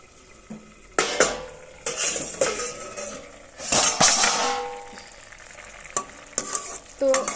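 Potatoes cook with water spinach in a pot, bubbling and sizzling close by while a utensil repeatedly stirs and clanks against the metal pan in irregular bursts.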